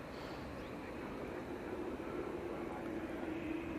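A TUI airliner passes at Manchester Airport, a steady broad jet roar with low rumble and a faint whine, constant and fairly distant throughout, with no talk.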